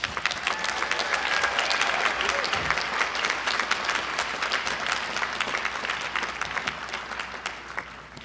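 Sustained audience applause at a law school JD commencement ceremony welcoming speaker Connie Rice, a dense, steady clapping that fills the hall, holding strong throughout and tapering slightly near the end.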